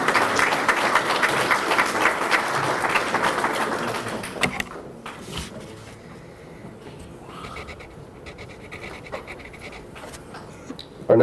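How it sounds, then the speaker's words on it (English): Banquet audience applauding a scholarship recipient at a memorial awards dinner: dense, steady clapping for about four seconds, then a quieter hall with scattered claps, shuffling and faint room noise. "Let's give Lance a round of applause, please."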